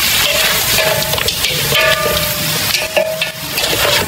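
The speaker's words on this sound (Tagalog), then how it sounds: "Haluin natin." Duck caldereta sauce with tomato paste, tomato sauce and annatto is stirred in a pan, loud close scraping and clinking of a utensil over a steady sizzle, with repeated strokes throughout.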